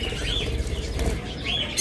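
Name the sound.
budgerigars chirping and flapping wings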